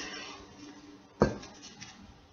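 A glass specimen jar has its lid sealed shut after being filled with liquid, giving one sharp clack of glass and lid, close by and otherwise quiet.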